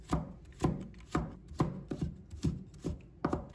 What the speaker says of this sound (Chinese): 再把它切成细丝